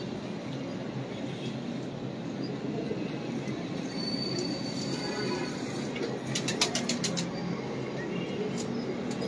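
Ferozpuri pigeons coo softly amid steady background noise, with low, rolling calls running under a constant hiss and a short burst of sharper clicks near the end. No one talks.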